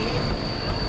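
Passenger train running on rails in Bulgaria, with a loud, constant rolling rumble and a steady high wheel squeal throughout, heard from close range and without speech.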